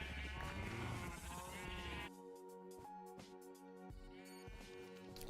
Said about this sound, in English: Let's see if I can shear a couple of our sheep here.